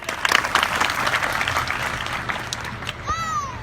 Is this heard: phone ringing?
no